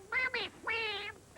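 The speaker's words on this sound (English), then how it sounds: "With a quack, quack here and a quack, quack there." A cartoon duck quacks in a children's farm song, with several drawn-out, nasal, melodic quacks in rhythmic bursts, loud and close.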